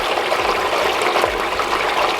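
Steady rushing of water flowing around a rock in a small model creek channel, part of a gold-panning demonstration; continuous broadband wash with no pauses and no voices.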